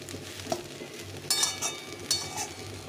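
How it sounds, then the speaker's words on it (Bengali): Egg and puffed rice fry in a pan, giving a soft steady sizzle, with a few sharper scrapes and clinks of a utensil stirring against the pan. "এইভাবে ভালো করে ভেজে নিতে হবে।"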